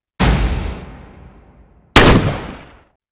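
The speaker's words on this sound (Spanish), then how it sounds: "un seco golpe seguido de un disparo se escuchó en el lugar" A dull blow and then a gunshot in a zombie story: two sharp, loud bangs almost two seconds apart, each fading away in a long tail, with no voices.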